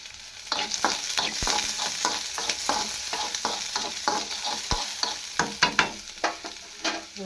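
Onions are stirred as they fry in hot oil, a continuous sizzle broken by repeated scraping strokes of the spatula throughout.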